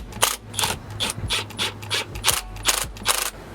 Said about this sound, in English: we're going to put our electric impact on level 1, so that way you don't over torque these